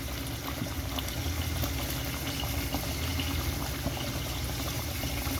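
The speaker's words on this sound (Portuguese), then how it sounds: "Olha, gente, como tá grosso o caldo. Tá vendo? Tá cozinhando." A thick broth of tomato, onion, pepper and seasoning simmers in a pot, giving a steady low bubbling and gurgling that stays even and moderately quiet throughout with no voices.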